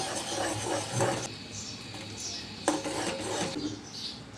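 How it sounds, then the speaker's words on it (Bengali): Caramel for laccha pudding is stirred continuously in a pan, with close rasping spoon scrapes and light metallic clinks over a soft background hiss, no speech. "অনবরত নেড়ে নেড়ে আমি ক্যারামেলটা রেডি করে নিচ্ছি"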